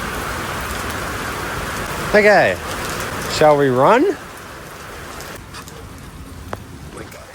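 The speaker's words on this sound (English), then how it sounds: "It's that sort of rain that you get soaked instantly." Heavy rain falls outside an airport in Queensland, a constant broad hiss of downpour that later softens as shelter is reached, with someone briefly talking over it nearby.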